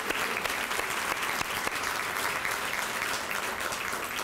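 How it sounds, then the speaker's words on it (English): An audience at a 2017 awards luncheon gives a sustained round of applause, with dense, steady clapping from many hands that fills the whole stretch without any pauses. "So if you all would give them another round of applause"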